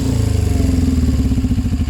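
A Suzuki GS500 motorcycle fitted with a slip-on exhaust idles close by, its twin-cylinder engine giving a steady, loud, throbbing putter with a regular rapid pulse and no voices.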